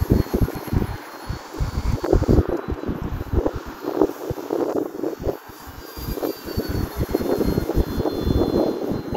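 A small airplane engine drones steadily as the plane flies a crosswind pattern on a snowy day, its pitch wavering slightly with wind rustle, loud and continuous with no talking.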